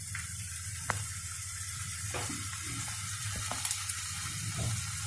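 Chicken rolls fry in hot oil in a pan, giving a steady close sizzle with a few soft clicks and light stirring sounds, and no voices.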